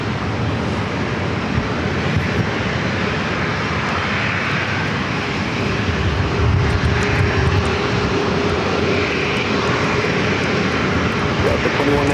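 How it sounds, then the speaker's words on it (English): A British Airways Boeing 777-300ER airliner roars loudly and steadily at San Diego airport, a broad jet rumble filling the whole stretch while a voice talks faintly underneath. "Airways 777 at 300ER, the biggest aircraft you're going to see here at SAN here today"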